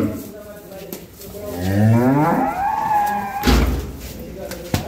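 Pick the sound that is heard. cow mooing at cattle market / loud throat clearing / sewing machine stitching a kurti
cow mooing at cattle market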